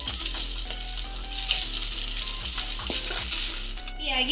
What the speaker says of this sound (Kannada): ಈ ರೀತಿಯಾಗಿ ಚೆನ್ನಾಗಿ ವೆಜಿಟೇಬಲ್ಸನ್ನು ಫ್ರೈ ಮಾಡಿಕೊಳ್ಳಬೇಕು